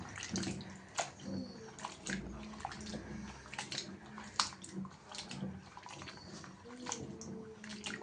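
Cut plantain pieces sloshed and rubbed by hand in turmeric and salt water, with intermittent splashes, soft drips and clatters in a bowl, fairly close and quiet.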